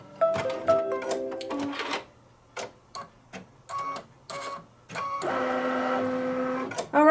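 An embroidery machine sews satin stitching on a Santa table runner, its needle running in rapid mechanical bursts broken by short pauses, then a longer continuous stretch of stitching, close and clear.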